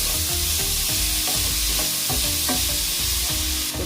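Cabbage and kabuli chickpeas frying in a pan, a steady close sizzle with repeated stirring scrapes and clatters throughout, no voices.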